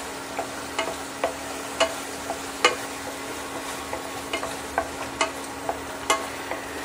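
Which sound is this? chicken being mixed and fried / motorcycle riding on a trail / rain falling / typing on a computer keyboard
chicken being mixed and fried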